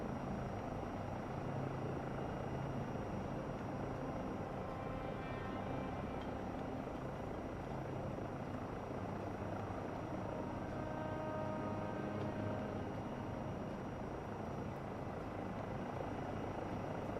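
An aircraft engine in Microsoft Flight Simulator 2024, played on a PS5 Pro, drones as a steady, even, dense roar for the whole stretch with faint tonal hum on top and no speech.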